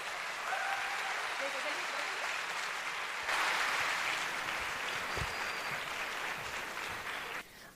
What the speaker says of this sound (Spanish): Recibámosla con un fuerte aplauso.